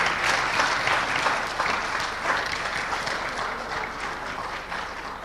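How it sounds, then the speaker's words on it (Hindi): A large religious gathering breaks into loud applause welcoming guests to the stage, dense continuous clapping from close by that slowly eases off, with no talk over it. "आप दोनों जोरदार ताली बजाकर विधायक उनका स्वागत करें"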